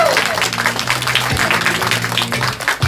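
Clapping from an audience at a poetry book-tour event continues after a poem, moderately loud and dense, with a voice and low background hum underneath.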